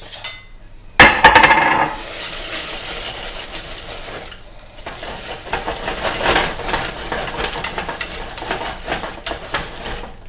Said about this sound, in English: we're going to place in 2 cups of chocolate chips